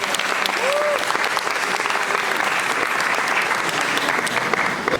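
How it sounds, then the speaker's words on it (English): Sustained applause fills a youth family planning conference hall, a steady dense patter of many hands clapping, loud and even throughout with a faint voice rising briefly near the start. "Let's give him a round of applause."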